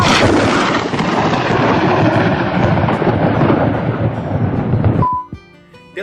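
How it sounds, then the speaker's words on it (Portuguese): A long, loud rumbling roll of thunder that fades out abruptly near the end, leaving faint background noise. "E, segundamente, chega o trovão."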